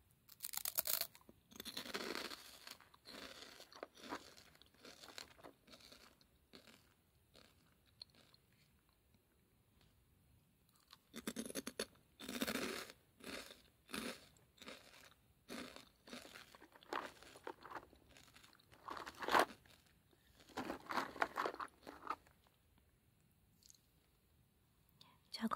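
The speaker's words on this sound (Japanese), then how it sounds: "じゃがいものうまみ引き立つあっさり塩味、サクサク食感がやみつきになる長い長いノンフライスナック。" Crunchy bites and chewing of Potelong, a long, thin, lightly salted non-fried potato snack, in repeated close, crisp bursts separated by quiet gaps, with soft mouth sounds between bites and no talking.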